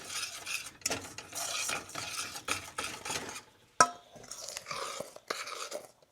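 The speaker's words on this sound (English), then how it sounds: "Now, let's mix this all up." Ingredients for a caramel fudge log cake being stirred in a bowl with a utensil, steady close scraping and clinking strokes, with one sharp knock partway through and no talking.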